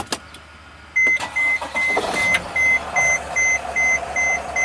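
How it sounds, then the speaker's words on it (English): A Sprinter van diesel engine cranks and fires, then settles into a low idle while a dashboard warning chime beeps repeatedly at a steady rhythm over it. "All right, I'm gonna start the engine."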